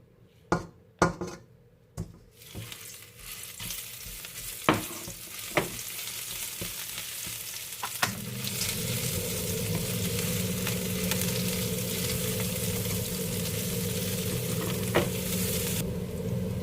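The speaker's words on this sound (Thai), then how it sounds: "น้ำมันเราร้อนแล้วเดี๋ยวใส่พริกลงไปพัดก่อน" Chili peppers hit hot oil in a home kitchen, starting with a few sharp clinks of utensils against the pan, then settling into a steady, close, loud sizzle and crackle of stir-frying that carries on to the end.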